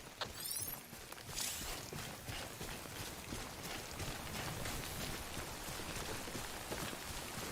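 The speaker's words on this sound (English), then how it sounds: "Don't stay out in the rain any longer than you have to." Timefall rain in the video game Death Stranding falls as a steady, dense hiss of drops on surfaces, continuous and fairly close throughout, with no voices.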